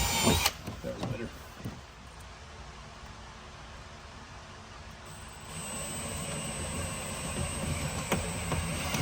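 A power drill bores into the metal of a BMW E92, a steady grinding whine that builds and grows louder in the second half, with brief talk at the start.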